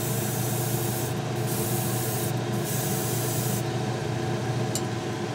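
Spray painting an outboard nacelle on a large scale model inside a small paint booth: a steady, close airbrush hiss runs without a break and carries no talk.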